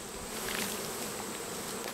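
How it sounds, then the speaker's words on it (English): A dense, steady buzz of many old honey bees flying close by, continuous throughout with no talking. "You can't even shake them out because they're all old bees. They just all fly."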